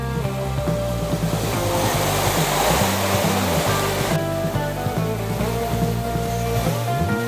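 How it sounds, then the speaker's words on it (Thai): Ko Luang waterfall in Mae Ping National Park, Thailand: a steady, dense rush of falling water that continues throughout, with a tonal musical bed underneath. "นี่คือ น้ำตกก้อหลวง อีกหนึ่งน้ำตกที่มีความสวยงาม ระดับต้นๆของประเทศไทย"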